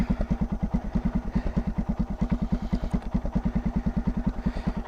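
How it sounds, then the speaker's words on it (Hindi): A Hero Xpulse 200 motorcycle fitted with a Karizma engine and a modified exhaust idles close by, putting out a steady, rapid, hollow-sounding thump with an even low pulse throughout. "तो साउंड देखो, स्टॉक साउंड तो बिल्कुल नहीं है एक्सपल्स का, और करिश्मा का भी साउंड एक मिक्सचर है"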